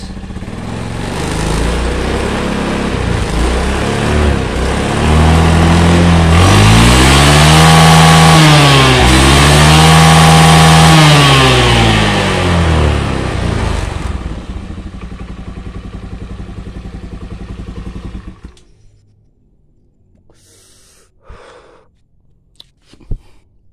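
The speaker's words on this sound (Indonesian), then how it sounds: "setelah digas kita akan coba gas" A carbureted Honda Beat scooter with a repaired vacuum leak revs hard from idle, loud and close, climbing twice to a high buzzing limit before settling back and cutting to near silence with a few faint clicks.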